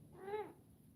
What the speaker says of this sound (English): That's the cat you may hear in the background.